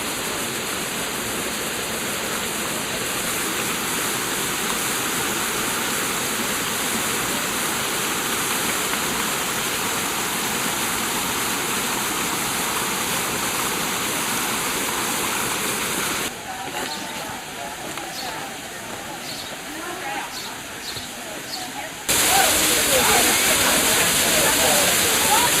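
Water flows into a lower pool in the En Gedi gorge, making a steady, close rushing splash that fills the whole clip. A high whine runs through it, and the sound drops briefly before returning louder.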